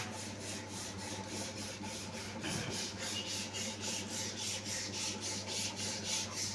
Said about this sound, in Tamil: எம்ரி 100ல் தேய்ப்போம்.